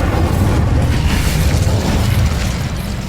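A fiery spell blast in Hogwarts Legacy, a deep rumbling boom that swells loud and close, then rolls on as a dense crackling roar before easing slightly near the end, with no voices.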